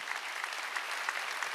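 Church congregation clapping during a Sunday worship service, a faint, dense, steady patter of many hands heard from some distance, with no talk over it.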